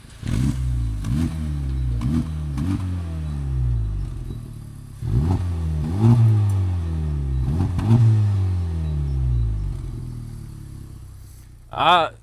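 A Honda car engine revs repeatedly in sharp bursts, each rising pitch sweep climbing and falling back in a steady rhythm, loud and close, with a brief higher whine near the end.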